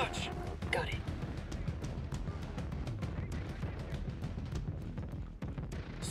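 Gunfire in the video game Tom Clancy's Ghost Recon Breakpoint, rapid repeated shots crackling through a dense, busy mix.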